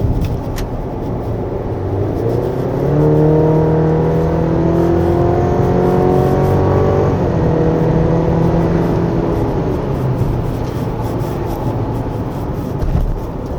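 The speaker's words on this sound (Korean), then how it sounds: "그걸 알 수 있게 그 타이어의 소리가 커집니다" Steady road and tire roar from inside a moving 2025 Chevrolet Colorado Z71 pickup truck on a winding road, with engine tones rising and falling through bends.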